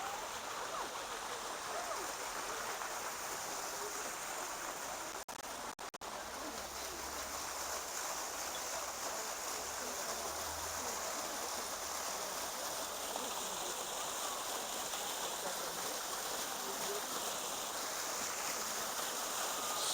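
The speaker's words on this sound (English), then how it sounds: "Did you find a water fountain" Water from a fountain at Saint Gregory the Illuminator Cathedral in Yerevan, Armenia, splashes and rushes in a constant broadband wash, with faint voices now and then underneath.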